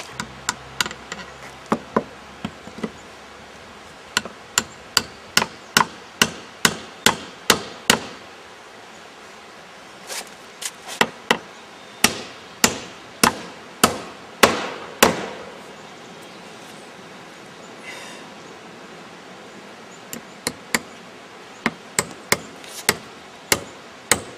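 Sharp hammer blows drive number 16 nails into plywood in quick bursts of several hits each, separated by short pauses, loud and close.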